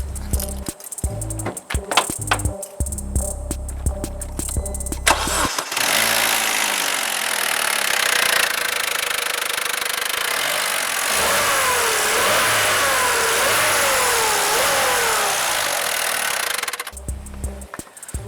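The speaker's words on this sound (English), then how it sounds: "I'm going to quickly start the car up, let you guys listen to it and hear how it currently sounds." A Vauxhall Corsa D 1.4 SXI engine cranks and catches, settles into a steady idle, then revs up and down in several swelling pulls before cutting off, loud and close with no talking.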